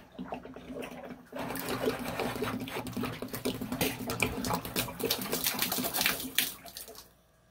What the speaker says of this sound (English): it looks like way more water's coming out than what actually is